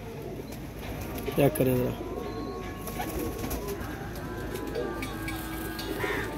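Pigeons kept by a hobbyist fancier give a low, brief coo close by, with softer bird sounds behind, as someone talks over most of it.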